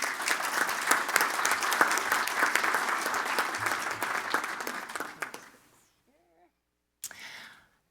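An audience at an annual general meeting applauds as a speaker comes up to the podium. Dense clapping fills about five seconds, then fades to near silence, followed by a brief faint sound.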